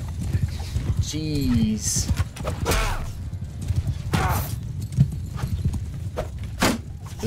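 Horse hooves clip-clop through a Mount & Blade 2: Bannerlord battle, a steady galloping patter mixed with whooshes, impacts and a brief whinny-like cry, while someone talks over the action.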